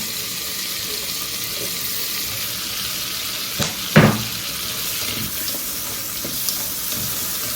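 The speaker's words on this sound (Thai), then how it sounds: "ผัดให้หอมใหญ่สุกแล้วก็หอมค่ะ" Onions sauté in salted butter in a pot with a steady, close sizzling hiss, interrupted once by a short clank of a utensil against the pot.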